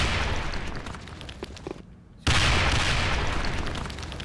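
Video game combat: a grenade blast and gunfire make dense, heavy bursts of booming shots, cut by a brief silent gap, then a sudden loud explosion that fades away slowly.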